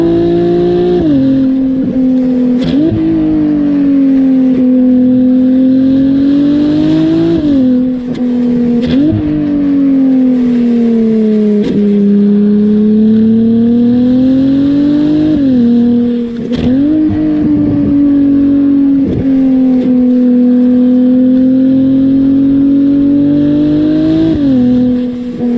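A Ferrari 296 rated at 819 brake horsepower drives a mountain pass, its engine droning loudly and close throughout, rising in pitch under acceleration and dropping through repeated gear changes and corners.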